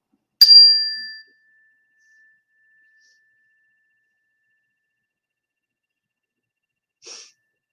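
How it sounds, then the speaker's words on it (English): A yoga chime rung once in a quiet room during a family yoga class, giving a bright metallic strike with a long clean ring that fades slowly, then a faint short second tap several seconds later. "I'm going to ring my chime again."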